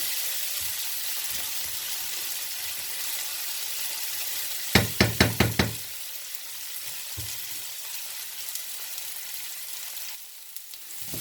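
Tomatoes frying in a pan for samosa chaat, a steady soft sizzle with a quick burst of stirring knocks against the pan partway through, close and alone.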